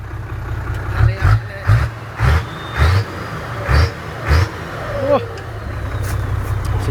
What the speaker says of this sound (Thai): เบิ้ลเบิ้ลเบิ้ลฟังท่อดิฟังท่อดิ